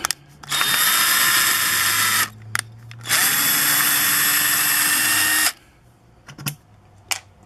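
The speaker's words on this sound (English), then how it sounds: "you use a smaller drill for your pilot hole" A power drill whines at high speed in two long, steady runs with a short pause between, close by and loud, drilling a pilot hole for a screw while replacing a window.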